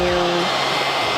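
A heat gun blows hot air on adhesive residue on the trunk of a 2016-2020 Chevrolet Camaro, a steady close-up roaring whoosh with a faint tonal hum at the start.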